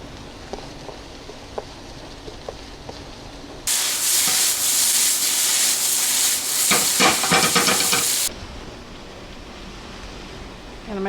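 Asparagus drops into a hot pan of caramelizing mushrooms and onions for a quiche, setting off a sudden loud hiss and sizzle that holds steadily for several seconds before abruptly dying back to quiet kitchen background.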